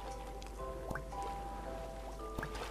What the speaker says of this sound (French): vous entendez les petites bulles qui éclatent?